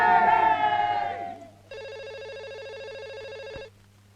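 A telephone rings with a steady electronic ringtone for about two seconds in a Telugu feature film, following a burst of loud overlapping voices and then dropping into quiet.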